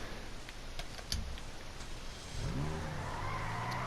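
A Grotti Itali RSX in GTA Online revs up, with a rising engine tone entering about two-thirds of the way through and climbing steadily, after a few faint clicks and taps over a low background hum; no one speaks.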